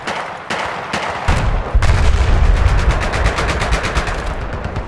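Rapid automatic gunfire from the video game Battlefield 4, starting with scattered shots and building into dense, continuous bursts of machine-gun fire, loud and close.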